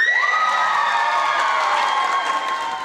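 A crowd bursts into cheering and shouts of joy at a celebration, with a high sustained whoop rising at the start and joyful voices carrying on loudly throughout.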